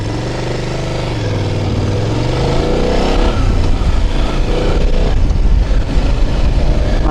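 A 2025 BMW F800 GS adventure motorcycle engine revs and accelerates steadily, a loud, close, continuous rising drone with shifting pitch throughout.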